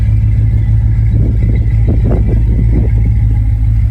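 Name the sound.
1974 Dodge Dart engine revving through its exhaust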